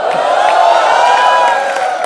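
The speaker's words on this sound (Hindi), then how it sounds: "नरगिस के लिए एक बार जोरदार तालियां हो जाए" Loud studio audience of a comedy show cheering and applauding for actress Nargis, a dense, continuous roar of claps and whoops throughout.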